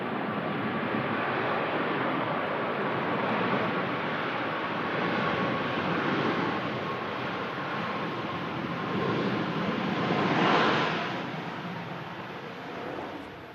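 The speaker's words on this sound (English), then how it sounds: "Great landing there from the Ryanair 737 MAX." Ryanair Boeing 737 MAX airliner landing at Manchester Airport, a steady broad jet roar heard from a distance that holds level throughout and swells briefly near the end before easing off.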